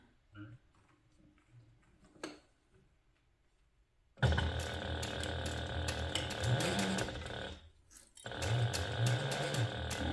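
A sewing machine stitches a handbag, running over an existing line of stitching with a rapid, rattling mechanical whir that starts after a quiet stretch, pauses briefly and then resumes.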